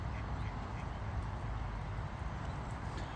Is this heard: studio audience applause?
no